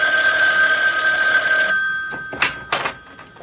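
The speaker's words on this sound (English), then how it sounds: "Isn't that your phone I hear ringing?" A telephone rings with a steady electronic trill for about a second and a half, then falls quiet and is followed by a few soft thumps and knocks, all indoors with no talking.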